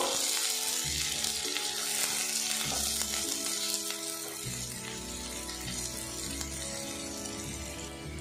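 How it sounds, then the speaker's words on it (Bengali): Garlic with dried and green chilies fries in a pan, giving a steady, close sizzle with occasional stirring sounds and no talk. "এবার এগুলো আমি প্যানের মধ্যে দিয়ে দেবো। মশলাটা আমি বেশ কিছুক্ষণ ভাজা ভাজা করে নেব।"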